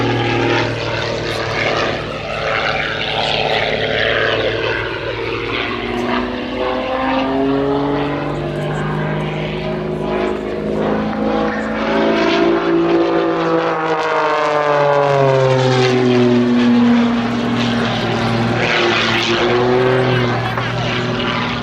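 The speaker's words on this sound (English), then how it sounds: "High-performance aerobatic aeroplane such as this." A high-performance aerobatic propeller aeroplane at an airshow roars loudly and continuously, its engine pitch rising and falling as it swoops past, with a commentator speaking over it.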